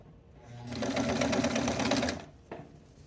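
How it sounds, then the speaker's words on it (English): A sewing machine stitches along a kosode collar toward the end of the collar slit, a rapid whirring run of about a second and a half, followed by a single short mechanical clack. "So I'm going to sew to the end of the collar slit."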